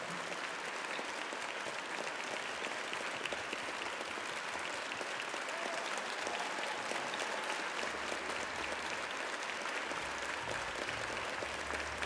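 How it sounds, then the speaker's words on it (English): Concert audience applauding after a live symphonic performance of Baldur's Gate 3 music, a dense, steady wash of clapping from a large crowd that holds evenly for the whole stretch. "Keep clapping."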